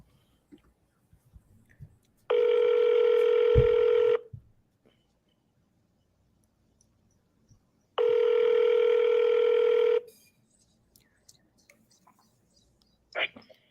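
Ringback tone of an outgoing telephone call, two long steady rings about two seconds each with a pause between, clear and alone, followed by a short click.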